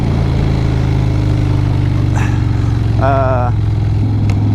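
A Harley-Davidson Street Bob motorcycle with a 107 engine pulling hard through first, second and third gears, a loud close engine roar rising in pitch, with brief speech over it.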